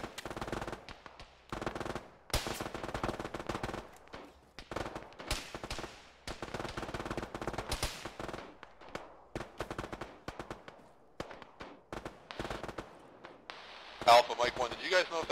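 Gunfire from a military video game session, bursts of rapid automatic fire and single shots crackling in clusters, some near and some distant, mixed with brief silences and sudden louder bangs.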